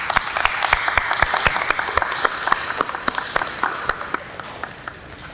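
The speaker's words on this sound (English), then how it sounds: "give your families a round of applause and a big wave and a thank you." Students at a junior honor society induction ceremony clap for their families, a steady round of applause with several loud, distinct individual claps standing out above the crowd.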